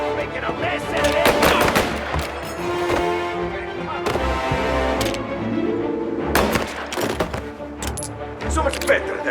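Gunfire from the video game Mafia: Definitive Edition, with repeated bursts of shots and sharp impacts over a busy game soundtrack, alongside speech throughout.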